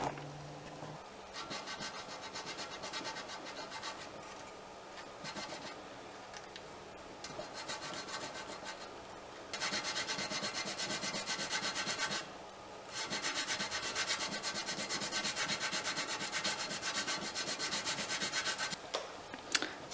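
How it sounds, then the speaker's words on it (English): Cured MarineTex two-part epoxy is sanded by hand on a boat centerboard in a tight space, giving a continuous close scratchy rubbing that swells and eases with brief pauses between passes. "So I've got a little bit of sanding to do."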